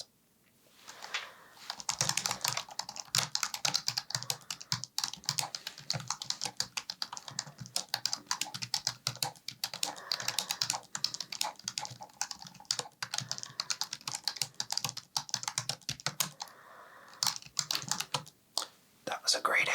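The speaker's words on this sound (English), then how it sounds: "When you give your answers, I'll just be typing along here." Steady, close-up typing on a computer keyboard, with rapid clustered keystrokes running nearly continuously through the whole stretch, soft and intimate with occasional brief pauses.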